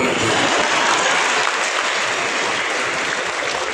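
A large audience claps at a motivational talk, a dense, loud, sustained wash of applause that fills the whole stretch evenly without pause.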